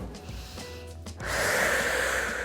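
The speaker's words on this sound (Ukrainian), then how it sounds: "на 10 разочків роблю глибокий вдих" A deep inhalation during a foam rolling exercise, a soft snort-like intake that swells into a louder, sustained airy breath, close and alone with no talking.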